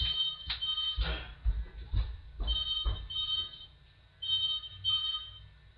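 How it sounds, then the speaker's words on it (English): A phone ringing indoors, a repeating electronic tone in short bursts that comes and goes, with faint background noise and no talk over it. "Oh gosh, my phone is ringing."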